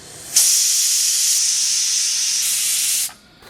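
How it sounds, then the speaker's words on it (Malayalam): A loud, steady hiss of steam escaping from a pressure cooker bursts on suddenly, holds for about three seconds, then cuts off. "കുക്കർ എടുത്ത് മാറ്റണേ അതാ ഇതിൻ്റെ പ്രഷറൊക്കെ പോയിട്ടോ"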